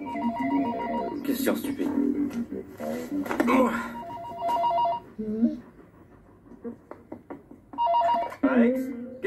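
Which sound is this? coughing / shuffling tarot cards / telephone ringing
telephone ringing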